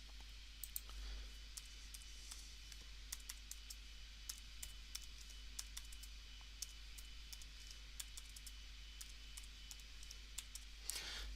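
Computer keyboard typing during a software appliance installation, a quiet run of irregular light key clicks at close range over a steady low hum, ending in a brief louder burst of clicks.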